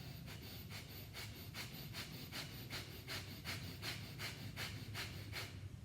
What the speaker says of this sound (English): breath of fire is a forceful inhale and exhale